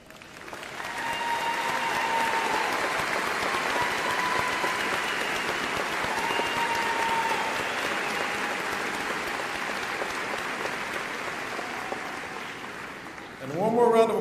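Loud applause from the audience at a Catholic high school graduation ceremony, rising quickly into a dense, sustained wash of clapping that holds steady, with a faint voice or tone running beneath it, before a brief louder burst at the very end.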